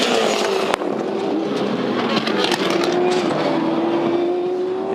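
A Supercars V8 race car skates through a gravel trap at a circuit in Tasmania. A loud, sustained engine drone slowly falls in pitch over a wash of gritty noise, with a sharp crack early on and a commentator talking over it.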